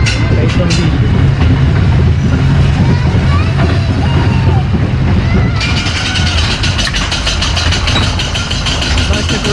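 The Tower Coaster, a small roller coaster at the Dreamland Margate amusement park, rumbles loudly and close by: a continuous heavy rolling roar with metallic clatter that sharpens into rapid rattling partway through.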